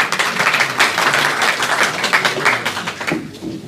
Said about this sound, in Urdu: بھرپور تالیاں ہونی چاہیے دوبارہ پلیز